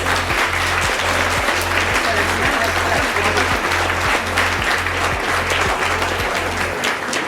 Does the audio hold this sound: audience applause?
yes